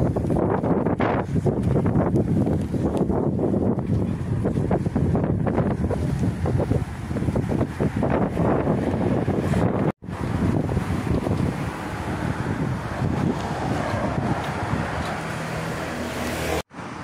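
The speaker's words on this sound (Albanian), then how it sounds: "Ja dhe deti." Wind buffets the microphone on the Crete coast near seaside hotels, with a steady broadband rush of sea and gusts throughout, loud and continuous, with a brief dropout partway and no talking.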